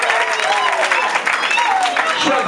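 Guests at an official wedding ceremony applaud and cheer, clapping mixed with excited voices and ululating calls over a dense crowd.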